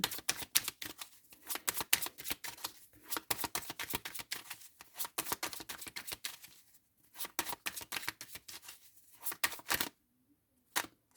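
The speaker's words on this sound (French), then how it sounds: "je vais prendre, une autre carte pour avoir un peu plus de précision" Tarot cards shuffled and riffled from a deck, a fast close run of crisp papery flicks and slaps with short pauses, ending in a few isolated taps.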